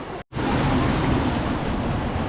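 A roaring waterfall in Yosemite, recorded up close, gives a dense, continuous wash of rushing water and wind noise, loud throughout after a brief dropout near the start.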